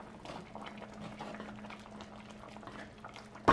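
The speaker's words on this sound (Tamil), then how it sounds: "இப்போ ஒரு 5 நிமிஷமா இதுலேருந்து கொதிச்சு கொண்டிருக்குது," A Jaffna-style sardine and boiled egg curry bubbles in a pot, a soft, steady simmer heard up close and alone, with a brief clatter at the very end.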